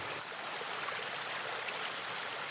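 Small river in Paris flowing into an artificial pond stocked with Japanese carp, a steady broadband rush of running water, close and continuous with no voices.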